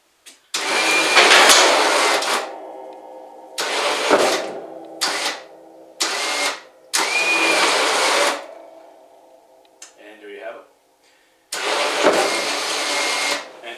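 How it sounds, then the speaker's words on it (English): Electric winch on a Can-Am ATV reeling in a ProMount plow, running in several separate whining bursts of a few seconds each with short silent gaps between them, close and loud. "And we press in on our winch."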